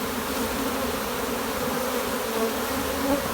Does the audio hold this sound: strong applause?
no